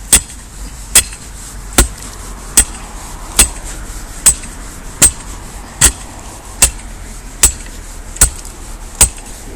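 Stones tapped into the ground around a traditional strainer post, a steady series of about twelve sharp, evenly spaced knocks close by, roughly one per second, each clear and alone over quiet outdoor background.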